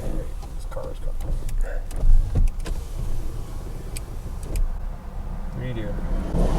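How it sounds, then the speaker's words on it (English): A car's power window hums as it rolls down while the vehicle sits on a rural road during deer season, with people talking over the motor and road noise. "Roll your window down."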